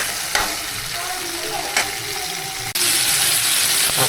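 Tomatoes roasting in a pan with a continuous close hiss and a couple of soft stirring knocks, and the sizzle swells suddenly louder near the end. No one talks.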